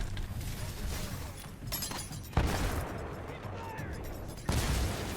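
In a first-person shooter game, Kraber rifle rounds explode on impact, giving two sharp booming bursts over a continuous rumble of game noise.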